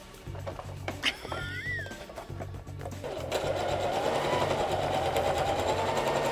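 Sewing machine stitching a jacket, running in short bursts at first with brief pauses, then a steady, continuous whir in the second half, close and fairly loud with a faint voice early on.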